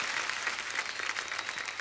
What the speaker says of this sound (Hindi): आप सबकी जोरदार तालियों के बीच प्लीज वेलकम फरहाद सामजी।